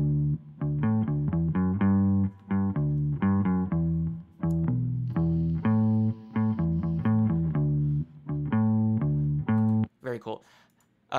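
Amplified instrument or vocal line heard through an amp simulation with reverb added, mixed in a 1960s Abbey Road style; steady sustained melodic notes with short breaks, loud and close throughout, with no talking.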